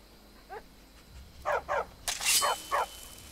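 A dog barks in Skyrim, the fantasy video game: several short, fairly loud yaps in a quick run, then a rougher burst followed by two more barks, over a quiet ambient game backdrop.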